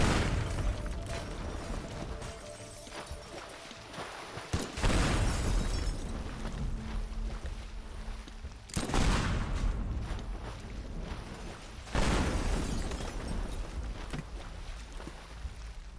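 Three heavy booming blasts roughly four seconds apart tear through the museum in the destruction game Teardown, each a loud broadband burst followed by rumbling debris and a lingering roar.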